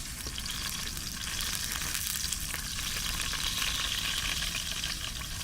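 A small whole perch fries in oil in a pan over an open campfire outdoors, giving a dense, continuous crackling sizzle at steady strength with a few faint scrapes, and no voices.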